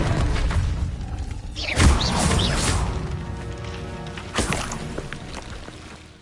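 A Glacius ice spell is cast in Hogwarts Legacy, giving a sharp crashing impact followed later by a second, softer burst over a steady backdrop of game music.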